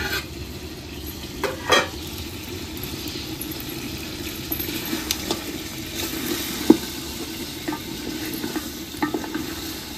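Chicken sautéing in a cooking pot makes a low, steady sizzle, with scattered scrapes and knocks from stirring, including a louder clank near the middle.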